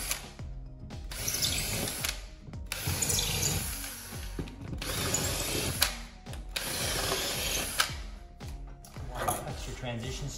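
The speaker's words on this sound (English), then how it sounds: "drill your 1/4 inch hole." A drill bores quarter-inch holes in a line along a floor gap to fit a vinyl flooring transition strip, giving several bursts of whirring and grinding with short pauses between them, close by and with some clicking.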